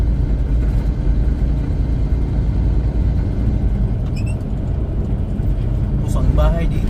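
Steady road rumble of cars driving on an American highway, heard from inside a moving vehicle, with engine and tyre noise continuous throughout and a brief brighter passing sound near the end.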